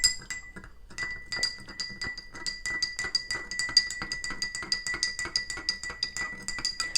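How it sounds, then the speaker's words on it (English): A metal spoon stirs MSM solution in a glass, giving quick repeated clinks and taps in a steady rhythm, close and clear, with a faint ringing tone lingering between strikes. "I'm going to start mixing it from now"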